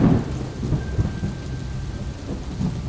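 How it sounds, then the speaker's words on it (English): Steady rain falls with a low rumbling of thunder throughout during a multi-day tarpon fishing tournament, with no voices and a constant wash of noise at a moderate level. "On a 5-day stretch, you can bet money it's gonna rain at some point."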